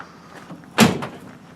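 Door on a 1970 Volkswagen single cab truck under restoration, with one short close latch clunk and swing, preceded by faint handling noises.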